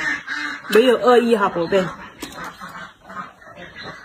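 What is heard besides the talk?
pet ducks quacking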